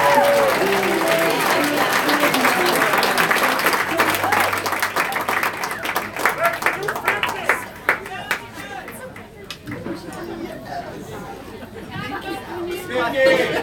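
Crowd applause and clapping at an art auction after a $40,000 bid, loud and sustained at first, then tapering into scattered claps mixed with chatter.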